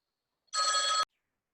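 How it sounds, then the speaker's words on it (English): A telephone bell rings in one loud, steady burst of about half a second that cuts off abruptly, with silence before and after. "I'm gonna pause this to get the phone."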